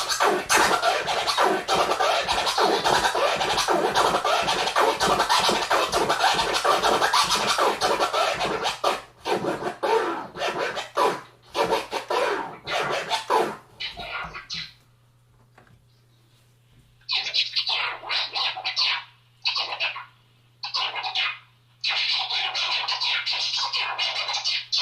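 Rapid DJ turntable scratching on vinyl, a dense run of cuts giving way to a pause and then short, sharp one-click chirp-flare scratch bursts separated by brief gaps, loud and close with no talking.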